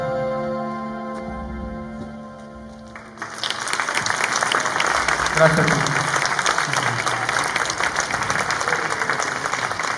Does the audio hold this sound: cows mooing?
no